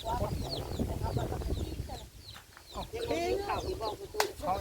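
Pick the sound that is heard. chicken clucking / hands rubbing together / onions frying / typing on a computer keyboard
chicken clucking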